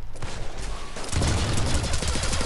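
The Locust gun in the video game Armajet fires in a fast, continuous stream of shots, loud and close, building in intensity about halfway through.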